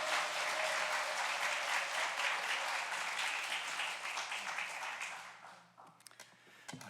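A church congregation applauds loudly and steadily, clapping dense and sustained for about five seconds before fading out into scattered final claps.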